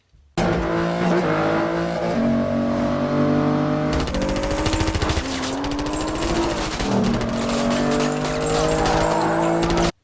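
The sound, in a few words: car chase scene in a James Bond film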